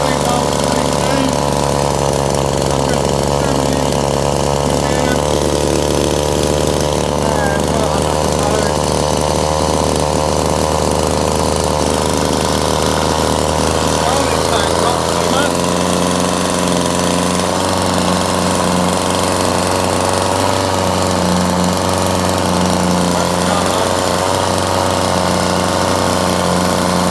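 A small whipper snipper two-stroke motor drives a generator on a rough setup, running as a loud, continuous buzzing drone throughout with a pitch shift about halfway through as a load is applied.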